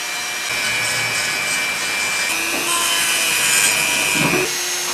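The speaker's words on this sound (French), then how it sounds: "C'est encore un travail de ponçage un peu long" Someone sands a wood sculpture with a steady abrasive rubbing hiss, close and continuous, and a faint tool drone runs beneath it. No one speaks.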